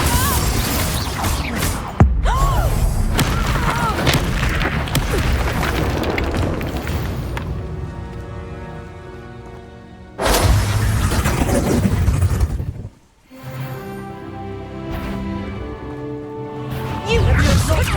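Confringo blasting-spell explosions in the Hogwarts Legacy video game, loud booming blasts and crashes over busy game sound effects and music, with a sudden burst near the start, another surge mid-way, and a brief drop to near silence.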